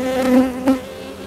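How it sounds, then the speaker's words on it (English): Bees drone around honey frames pulled from a hive, a close buzzing with a couple of swells as insects pass near. "Sorry, bees."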